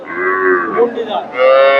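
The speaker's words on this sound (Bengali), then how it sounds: "মন্ডি জাতের গাভী" A Mondi breed dairy cow at a cattle market in Gabtali, Bogura moos loudly from close by, giving a drawn-out low that breaks and then swells again.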